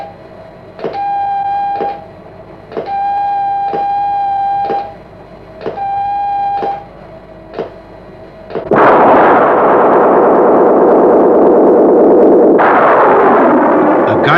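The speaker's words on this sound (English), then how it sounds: "A guided missile blasts off from one of the most up-to-date and versatile firing ranges in Western Europe" A guided missile launches at the Aberporth firing range: a few regular countdown pips and tones give way to a sudden loud, sustained roar of the launch that carries on to the end.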